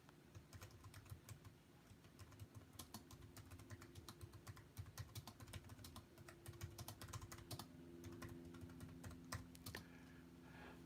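Rapid, uneven clicking of computer keyboard keys, close and fairly quiet, runs continuously over a low steady background hum with no talk.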